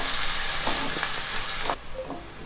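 Onions sautéing with garlic in a pan for tomato thokku, a steady close sizzle with soft stirring scrapes that cuts to a quieter, fainter fry near the end.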